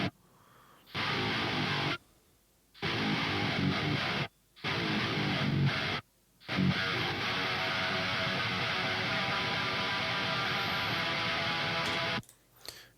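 Heavy metal band mix heard dry without bus processing, thick distorted guitars and drums in choppy stop-start hits before a longer sustained loud passage that cuts off near the end.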